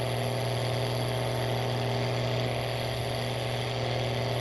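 A tractor engine roars under heavy load while pulling a planter in Farming Simulator 19, a loud, steady drone with a deep hum and buzzing overtones that holds alone throughout, with no one speaking.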